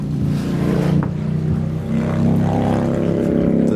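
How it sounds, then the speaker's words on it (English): A 40 horsepower marine diesel engine runs on a boat on the water, a steady loud low throbbing drone that holds even and close throughout without any talk. "the same 40 horsepower marine diesel engine that we used in the last test, right in front of me"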